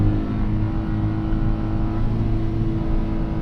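A Hyundai Casper SUV engine held at high RPM in low gear: a steady, loud droning hum with a constant low-pitched tone and no change in pitch, with no talking.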